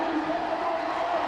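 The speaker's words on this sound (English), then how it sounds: "And listen to that crowd." A school crowd at a PlayStation U13 Schools Cup match between Whitgift School and Thomas Telford School roars steadily as the teams come out, a dense, continuous wash of cheering voices.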